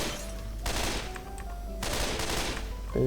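Rapid automatic gunfire in the zombie shooter game Left 4 Dead 2 rattles in dense bursts with a short break between them, loud and close, with no voices.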